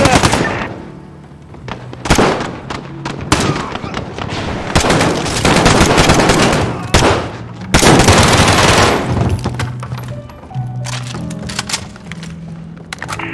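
Heavy gunfire in the Call of Duty: Modern Warfare video game, with loud automatic bursts and sharp single cracks packed close together over a rumbling battle bed, and faint voices mixed underneath.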